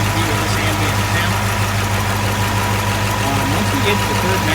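A 1965 Ford Ranchero engine idles after its first start since new valve covers and a fuel line were fitted, a loud, close, steady rumble with a slightly uneven, knocking pulse throughout.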